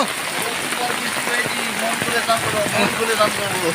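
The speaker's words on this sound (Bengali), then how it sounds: "দেখো কত বৃষ্টি পড়ছে" Steady morning rain hisses and patters across the whole clip, with scattered louder drops and faint voices underneath.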